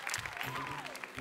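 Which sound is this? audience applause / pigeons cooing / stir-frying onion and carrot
audience applause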